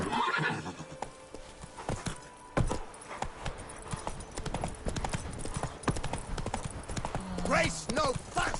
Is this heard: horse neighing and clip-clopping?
yes